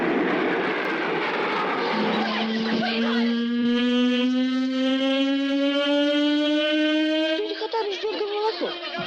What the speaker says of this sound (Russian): Это гудение реактивных двигателей.